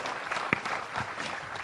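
An audience claps at a Cak Nun and Kiai Kanjeng national-reflection gathering at UNAIR in Surabaya, producing steady, fairly loud applause with one sharp louder clap standing out near the middle.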